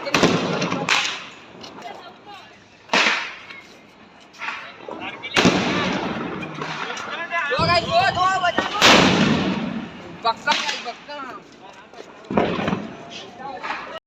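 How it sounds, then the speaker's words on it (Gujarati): Several sharp Diwali firecracker bangs burst out at irregular intervals, some loud and close, with voices talking and shouting between the blasts. "અત્યારે અમે જોરદાર બોમ્બ ફોડી રહ્યા છીએ"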